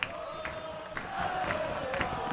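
A baseball crowd at an Oakland Ballers opening-day game in the bottom of the eighth swells into chanting and cheering. The sound is distant and rhythmic, with repeated bursts that build steadily.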